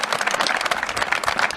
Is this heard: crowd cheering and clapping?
yes